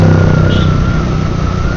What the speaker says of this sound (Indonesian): Di belakang ada mobil nih.